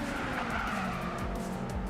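Race cars, a Subaru among them, skid and squeal their tyres around a corner under a dense, loud engine roar that holds steady throughout.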